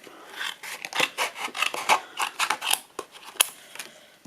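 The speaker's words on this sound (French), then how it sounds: "je vais découper grossièrement" Scissors cut roughly through masking tape and paper around small craft figures, a quick series of crisp snips and rasping slices, close and fairly faint, with no talk.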